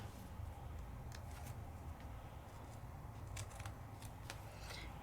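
Scissors snip through card paper in short, sharp cuts, with a few quick snips spaced across the quiet stretch against low background noise.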